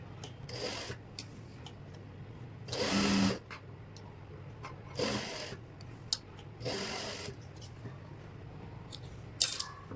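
A sewing machine stitches a trouser seam in several short bursts of a second or so, separated by quiet pauses as the fabric is handled; the motor runs close and moderately loud, with no talk.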